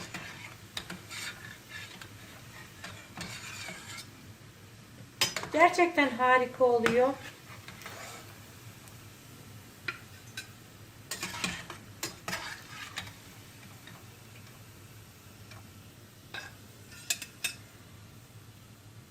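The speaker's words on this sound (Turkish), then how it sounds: "Dediğim gibi bol yağın içerisinde kızartın." Stuffed meatballs (içli köfte) sizzle steadily in plenty of hot oil while utensils stir and clink against the pan, with a person talking over the cooking.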